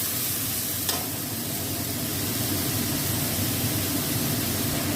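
Onion, ginger, garlic and chili paste frying with chili powder and sugar in a pan, giving a steady, loud, dense sizzle that never lets up, with one brief scrape of stirring near the start.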